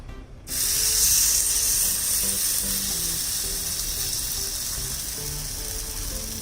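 Appe batter sizzles loudly in a hot appe pan over low gas, a sudden hiss that starts as the batter goes in and then holds as a steady, close frying crackle with no voices.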